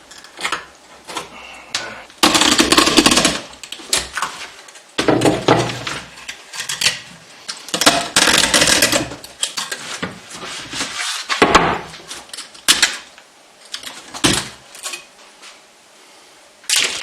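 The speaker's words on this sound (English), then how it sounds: "I try to get the old splint padding out" Old splint padding gets pried out of a caned canoe seat's groove with a small screwdriver, giving bursts of scraping, clicking and wooden knocks in irregular spurts with short pauses between them.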